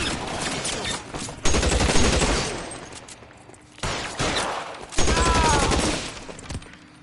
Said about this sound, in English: Yeah, submachine gun.